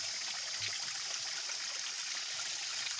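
Water from a mountain stream rushes steadily as a container is filled, a constant, bright, close splashing flow with no pauses.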